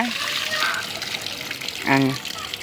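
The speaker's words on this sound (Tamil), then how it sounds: "அரிசியை இப்போ தண்ணியில் போட்டு நல்லா கிளஞ்சிட்டு இருக்காங்க" Rice for chicken biryani is swished and rinsed in water, giving a continuous close splashing and sloshing with a brief voice partway through.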